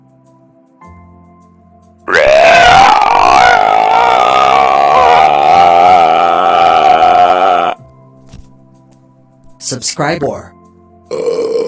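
An animated Plotagon character lets out a loud, drawn-out burp lasting several seconds. It is followed by quieter gaps and then a few shorter, choppy belch-like bursts, with a voice speaking briefly.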